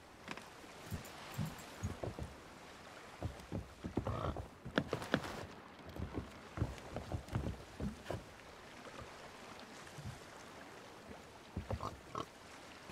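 Pigs in the pirate video game Sea of Thieves aboard a ship, giving short grunting oinks in scattered bursts over a low creaking background, moderately near.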